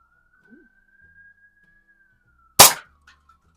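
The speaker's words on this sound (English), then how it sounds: "Got a siren going down the highway up front here." A distant siren on a highway near a residential side street holds a faint, thin, steady wail that drifts slowly, broken by one sharp, loud shot from a .177 XS-B3 side-lever spring air rifle fired in a garage.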